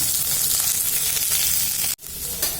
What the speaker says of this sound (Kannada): ಅದ್ರ ಜೊತೆನೆ ಕ್ಯಾಪ್ಸಿಕಮ್ ಹಾಕ್ಬಿಡ್ತಾ ಇದ್ದೀನಿ. ಇದನ್ನ ಮಿಕ್ಸ್ ಮಾಡ್ಕೊಳ್ಳೋಣ.